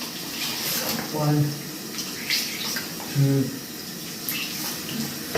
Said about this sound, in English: give your face a wash using cold water